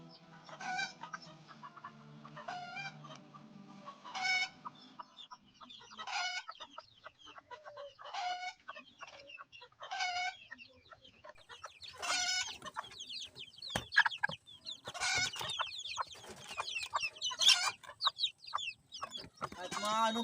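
A Serama hen clucks softly near her newly hatched chicks, giving repeated short calls at an uneven rhythm that later turn busier, with scattered rustling and quiet background sounds.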